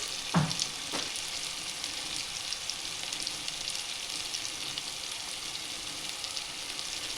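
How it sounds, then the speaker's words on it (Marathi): Onions with tomato browning in a hot pan for a garlic dal and spinach dish, a steady close sizzle and crackle throughout, with a couple of brief stirring knocks near the start and no talk. "कांदा पण आपण छानपैकी मस्त ब्राऊन होऊ द्यायचा आहे।"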